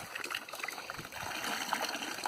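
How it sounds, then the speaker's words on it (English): Water gushes and splashes from an Ironton hand pitcher pump, a fluctuating, close trickling stream with small surges as it is pumped, heard alone without talk. "With each pump, I mean, you get a lot of water from it."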